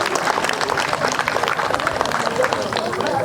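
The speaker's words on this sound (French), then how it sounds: "Je voudrais que vous applaudissiez cela" A crowd at a food-donation ceremony in the village of Kakoukro, Adiaké, claps steadily and densely, with a murmur of voices mixed into the applause throughout.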